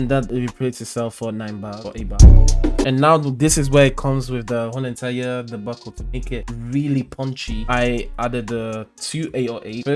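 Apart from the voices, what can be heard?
No everyday noise stands out behind the speech.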